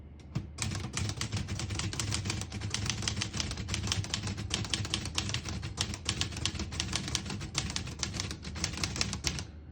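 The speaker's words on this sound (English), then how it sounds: "I'll type a sentence on the next line." Rapid, crisp clacking of keys on a 1964 Olivetti Lettera 32 manual portable typewriter strikes continuously for several seconds, close and steady with slight irregular rhythm.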